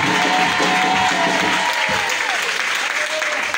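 A church audience applauds and cheers loudly and steadily for the name of Jesus, with dense sustained clapping and a few voices rising through it.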